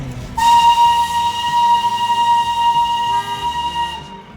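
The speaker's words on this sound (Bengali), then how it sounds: "টয় ট্রেন চলছে আর আমরা চলছি তার সাথে সাথে" Darjeeling toy train running near Darjeeling railway station, with a loud, sustained steady whistle tone sounding close by for about four seconds over a rumbling train, then cutting off.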